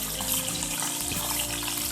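Water poured into a kadhai of masala tinda cooking in oil gives a steady, loud wash of splashing and sizzling that continues throughout without talk.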